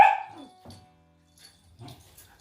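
Pet dog named Bella giving one sharp close bark followed by a few softer yips and whimpers amid quiet pauses.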